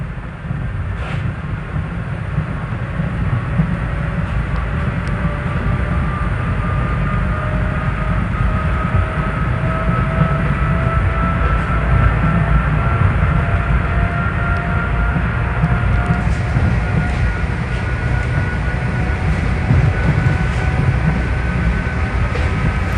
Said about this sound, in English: Listen to the motors on these cars at high speed.